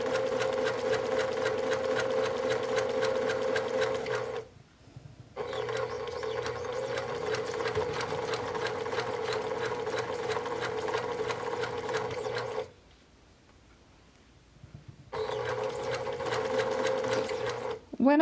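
A sewing machine stitches a plush llama in long, steady, loud mechanical runs, pausing briefly twice before starting again, while a person talks over it.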